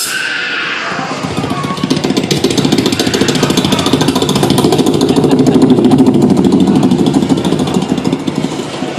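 A voice imitates a helicopter, sounding as a loud, close, steady rhythmic chopping drone that holds for several seconds with a fast pulsing beat.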